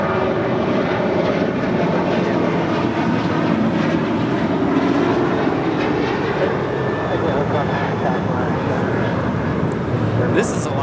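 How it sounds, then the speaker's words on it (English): Loud, continuous roar of an Alaska Airlines Boeing 737-800 jet departing LAX, a broad steady engine rumble heard close and sustained throughout, with a person talking over it. "This is Alaska Airlines Flight 310 departing to Washington Dulles on a 737-800."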